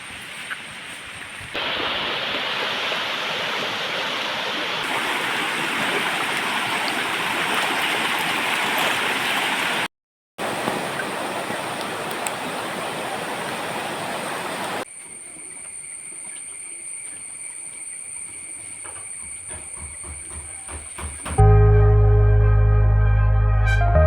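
River water rushes steadily and loudly for about fifteen seconds, broken by a brief cut, before the flow drops away into quieter sounds and a loud low tone at the end.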